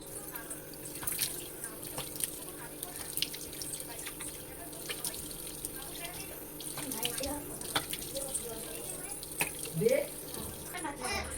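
A tap runs steadily into a sink while someone washes their face, with splashes and small clatters nearby and faint talk in the background.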